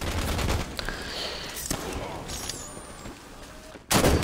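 Gunfire in Halo 5 Infection crackles in scattered shots under a busy game mix, with a sharp loud burst near the end.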